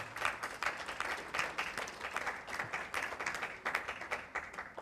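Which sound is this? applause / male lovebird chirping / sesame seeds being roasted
applause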